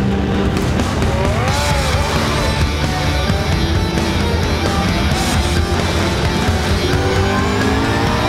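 A pack of GT race cars at the Algarve circuit roars loudly as it accelerates at the race start, a dense, continuous engine blare with faint tire noise and no clear talk.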